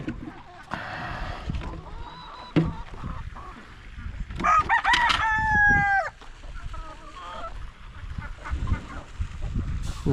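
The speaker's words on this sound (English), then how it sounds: "That was our very first rooster." A farm rooster crows once loudly and close by, with other fowl clucking and honking around it and people talking in the background.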